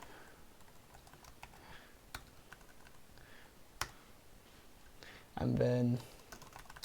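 Quick keystrokes on a computer keyboard while a chat link is posted during a livestream, faint scattered taps and clicks under a brief spoken phrase, with a short louder burst near the end.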